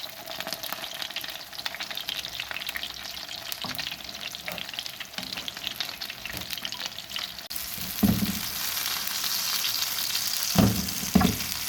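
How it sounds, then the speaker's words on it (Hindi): Peshawari chapli kabab mince sizzles loudly in a pan, a dense continuous frying hiss with watery crackle. Louder bursts come near the end as the patty is pressed or turned. "ये शर की आवाज़ का मतलब ये है कि अभी इसमें पानी है कीमे में।"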